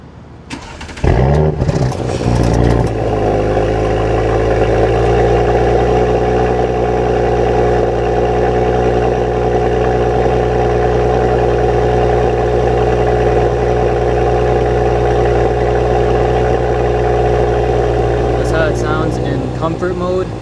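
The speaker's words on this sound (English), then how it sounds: "I'll give y'all a little cold start." A 2021 Audi S5 engine cold-starts with a sharp loud burst of cranking and revving, then settles into a steady, deep idle hum that runs on evenly, close by.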